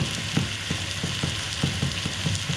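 Beef sears in a pan for boeuf bourguignon, a constant frying sizzle under a run of regular clicking taps and scrapes as the pieces are turned.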